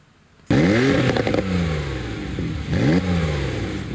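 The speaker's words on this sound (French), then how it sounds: "Le vrombissement des moteurs comme une mélodieuse symphonie aux oreilles de ces passionnés." Italian sports cars such as a Ferrari, Maserati and Lamborghini rev loudly at a charity car gathering in Vendée, France. The engines burst in suddenly, rising in two strong revving sweeps that are close and dominant.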